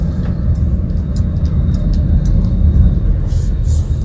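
A manual transmission car pulling away and driving, its engine a steady low rumble close by inside the cabin, continuous and fairly loud with slight rises in level.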